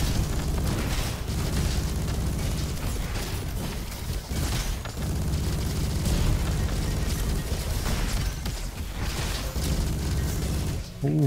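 Explosions go off in Roboquest during a firefight with the Rhino LMG, a dense continuous barrage of bursts and booms with a few louder swells. There is almost no talk.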